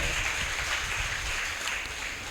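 A church congregation claps steadily and continuously through a Sunday resurrection worship service, a dense wash of many hands at fairly close range with no talk over it.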